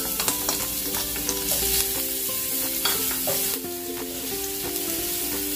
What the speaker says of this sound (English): Oil, little oil. Gisa natin sa bawang.